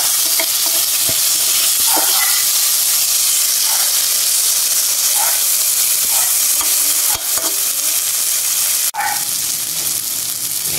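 Dried anchovies sautéed with tomato being stirred in a hot pan, a loud, continuous hissing sizzle with occasional spoon scrapes and one sharp knock.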